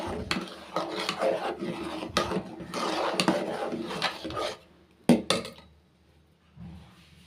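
Coconut milk being stirred into urad dal porridge in a pot, with repeated clinks and scrapes of a utensil against the pot in uneven bursts, then a sharp knock and quieter scraping near the end.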